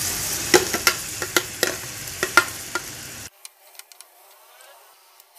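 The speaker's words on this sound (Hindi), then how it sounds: "कढ़ाई में मैंने ऑयल डाल दिया और इसमें मैं ये सारे मसाले जो है ना, टमाटर, प्याज और हरी मिर्चें सब इकट्ठे डाल दूँगी" Tomatoes, onions and green chillies tipped together into hot oil in a kadhai, a loud close sizzle punctuated by repeated spoon scrapes and clinks, then cutting off abruptly to quieter scattered stirring taps.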